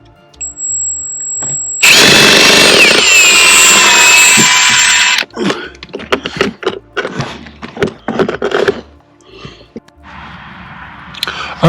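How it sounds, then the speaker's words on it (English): A power drill boring a small hole through the dash of a Jeep Wrangler, one loud, steady whine for several seconds, then clattering and handling noises close by and a brief second buzz. "So we're just going to drill a little hole here."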